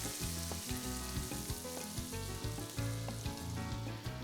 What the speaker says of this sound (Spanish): una vez que doramos bien estas cebollitas, vamos a agregar un vaso de vino tinto